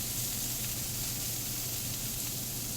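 Food for a steak dinner is stirred around in a hot pan, making a continuous, even sizzle and hiss with a low steady hum beneath and no clear breaks.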